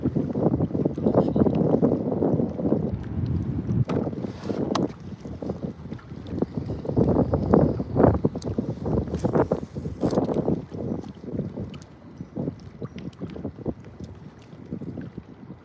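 Gusty wind buffets the microphone on a kayak during a spring fishing trip, a loud, continuous rumbling roar that rises and falls in strong surges, with faint water lapping underneath.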